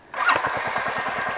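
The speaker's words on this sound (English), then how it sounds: "The exhaust note is a good one." A Royal Enfield Hunter motorcycle fires up and settles into a steady, thumping idle with a meaty exhaust note, close and loud, with regular low pulses and no talking.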